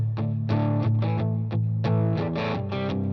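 Heavily distorted electric guitar strums chords in a choppy rhythm, with short gaps between stabs and a thick, buzzing tone.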